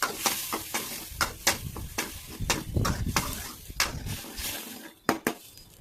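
Ground tomato sautéing with onions in a pan for a jackfruit tamarind curry: a soft sizzle broken by repeated sharp scrapes and clinks of a utensil against the pan in an uneven stirring rhythm.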